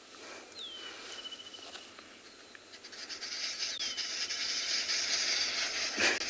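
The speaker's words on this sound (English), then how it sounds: "I think it's the arrow-marked babbler." Arrow-marked babblers chatter in the background at sunset on safari in Tswalu, with a couple of brief sweeping calls over a steady insect-like hiss. The calls are faint and distant.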